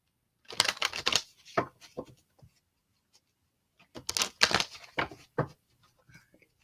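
Tarot cards being shuffled by hand, heard as two separate bursts of quick papery riffling and slapping, close and fairly quiet, with silence between them.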